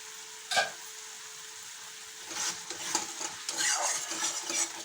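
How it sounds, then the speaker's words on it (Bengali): Spice masala being fried and stirred in oil for a bean and potato curry, with a sharp clank of utensil on pan, then a soft sizzle and scraping strokes that build and repeat, close by and without talk. "এটা দিয়ে আমি ভালো করে মশলাটাকে কষিয়ে নেব বারবার করে, যতক্ষণ না তেলটা ছেড়ে যায়।"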